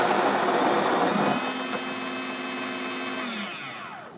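An espresso grinder runs on a 15-gram dose of espresso beans for a latte, a steady loud whirring grind with a tonal hum that winds down near the end, no talking.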